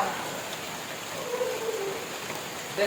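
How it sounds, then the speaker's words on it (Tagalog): Steady rain patters on surfaces outdoors in hot farm country, a soft constant hiss with a few faint higher tones and a brief louder bump at the end. "Ayan, umuulan na naman."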